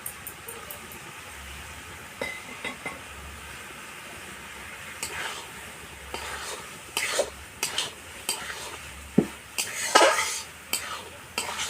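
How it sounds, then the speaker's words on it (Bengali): Prawns and cabbage stir-fried in a pan, a low sizzle under irregular scraping and clinking strokes of a metal spatula that grow busier and louder toward the end. "বাঁধাকপি দিয়ে অনেকটা কষিয়ে নিয়েছি, এবার আমি চিংড়ি মাছ দিয়ে কষাবো।"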